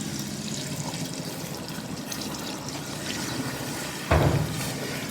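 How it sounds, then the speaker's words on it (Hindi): Half a cup of water is poured from above onto a cup of sugar in a cooking pan, a continuous close trickle and splash with a brief louder gush near the end. "तो ऊपर से ना आधी प्याली पानी की जो है वो डाल देनी है।"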